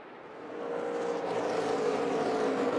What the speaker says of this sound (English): They're going by the lap car of Dawson Cram right there on the outside.